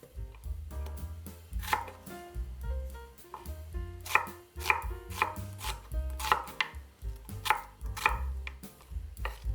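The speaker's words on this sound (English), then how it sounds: "chop 3 cloves of garlic" A knife chops vegetables on a cutting board in a quick, steady run of close, crisp strikes with short pauses between bursts, over a soft low background tone and with no talking.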